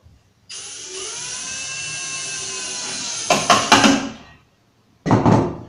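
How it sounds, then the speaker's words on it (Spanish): A power drill whines steadily as a screw drives into melamine-covered particleboard while a bedside table is assembled, ending in a few clunky bursts as the screw seats, then a brief final burst after a pause. "Ponemos nuestro segundo tornillo."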